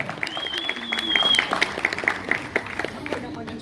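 Applause from the audience at a school graduation ceremony for ninth-grade and senior students, moderate clapping with a crowd murmur while a voice carries over it and sharp tonal chirps sound nearby.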